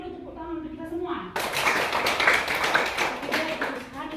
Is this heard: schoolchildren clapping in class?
yes